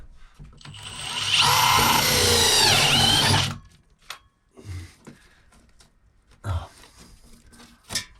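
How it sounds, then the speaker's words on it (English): A power drill whines loudly for a few seconds as a hole saw bites and cuts, then stops, followed by scattered knocks and handling clatter. "Stick her in your drill again, and you have no problem about getting the hole centre once again."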